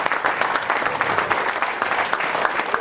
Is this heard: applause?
yes